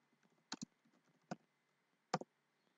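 Computer keyboard keys pressed in a few quiet, crisp clicks: a quick double tap, a single press, then another close pair, near and isolated.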